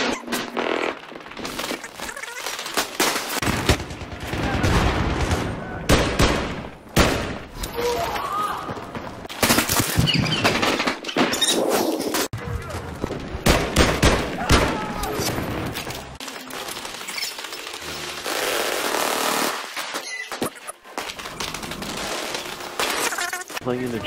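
Rapid gunfire bursts and sharp cracks from a Battlefield 3 multiplayer match, loud and close, with a player talking over the shooting.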